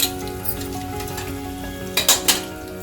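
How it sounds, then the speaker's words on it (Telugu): Two whole garlic bulbs' worth of cloves fry in oil for a mango peel pickle, a steady sizzle under a faint hum, broken near the end by a few sharp utensil clinks against the pan. "ఓకే ఇవి వేయించాలన్నమాట వెల్లుల్లిపాయలు"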